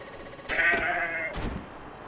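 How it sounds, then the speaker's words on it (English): A goat in the video game Zanki Zero gives two short, nasal bleats, the first longer and wavering, the second brief, loud and close with no speech over them. "I can see one more goat."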